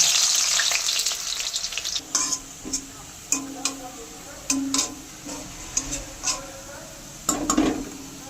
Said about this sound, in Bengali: কড়াইতে সর্ষার তেল দিয়েছি এবার সবার প্রথমে আমি একটা বড় সাইজের পেঁয়াজ কুচি করে নিয়েছি পেঁয়াজের বেরেস্তা ভেজে নেব